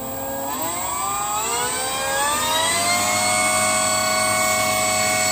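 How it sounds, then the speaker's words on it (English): An electric motor on a Skyhunter aerial mapping UAV spins up for a test run. Its loud, steady propeller whine climbs in pitch over the first seconds and then holds at a high, near, continuous drone with no talk. "Now, motor test."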